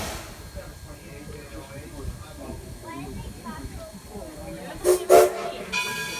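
A heritage Edison train at Greenfield Village rumbles steadily along its rails with a hissing undertone, while a voice talks over it and a short whistle-like blast sounds near the end.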